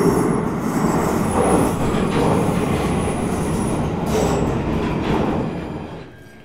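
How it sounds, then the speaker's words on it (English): A London Underground train rolling into Waterloo station, a loud steady rumble of wheels with a faint high squeal on top, fading out as it slows at the end, with no talking. "let's just enjoy this train coming in"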